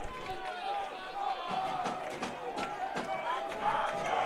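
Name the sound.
stadium crowd cheering in NCAA Football 2025 video game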